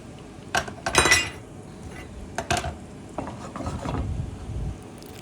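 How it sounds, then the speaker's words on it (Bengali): Pabda fish and tomato curry stirred in a pan, a few sharp scrapes and metallic clinks of a utensil against the pan in short bursts, close and fairly loud, no talk. "এই তো আবারও নাড়াচাড়া করে দিচ্ছি"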